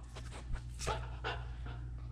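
A four-month-old golden retriever puppy pants softly in quick, breathy bursts close by, over a low steady hum.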